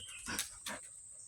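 A dog moves through woodland undergrowth while out hunting turkeytail mushrooms, with two quick rustling, snuffling bursts nearby and a faint, steady insect or bird tone in the background.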